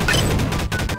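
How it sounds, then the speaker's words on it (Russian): Gunfire in the video game Garry's Mod, a short burst of loud, cracking shot impacts packed into about a second, harsh and close. "А ну давайте один выстрел"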